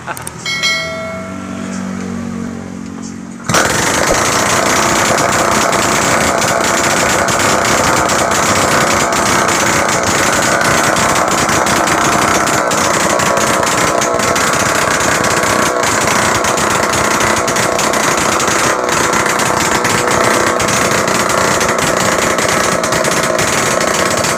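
Loud, unmuffled engine of a 90s X4 motorcycle running without an exhaust pipe, a harsh, steady roar that starts abruptly after a few seconds of quieter sound and holds constant to the end.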